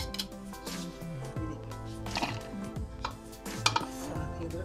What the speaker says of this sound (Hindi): 1 टुकड़ा ये लहसुन अदरक का बारीक काट कर डालूंगी।